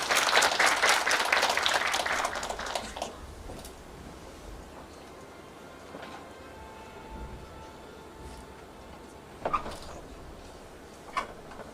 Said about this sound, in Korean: 발표자를 박수로 맞아주시기 바랍니다.